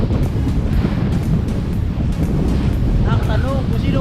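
Heavy surf of big waves at Morong Beach on Sabtang Island, Batanes, rumbles continuously with strong wind buffeting the microphone, and a voice speaks briefly toward the end.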